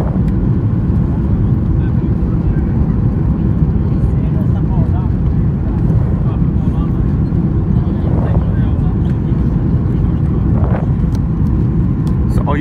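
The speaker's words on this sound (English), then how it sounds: "So we're landing on the other side of the runway" Loud, steady engine and airflow roar inside the cabin of a Norwegian Boeing 737-800 airliner on its landing approach, a dense continuous rumble heard throughout.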